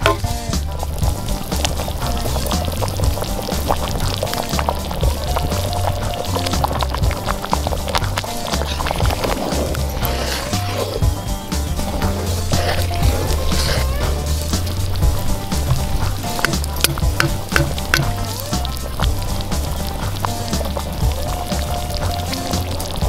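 Venison stew simmering down in a cast iron Dutch oven over an open fire during a snowstorm, a steady bed of crackling, popping fire and bubbling that continues evenly throughout, fairly close with no voices.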